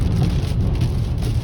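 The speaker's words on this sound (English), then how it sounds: "That was a big gust." Strong hurricane wind gust buffeting a car while driving through Hurricane Helene, a loud steady roar of wind and rain noise with heavy low rumble, no voices.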